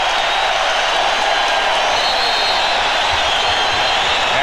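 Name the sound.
basketball arena crowd cheering, 1996 NBA Finals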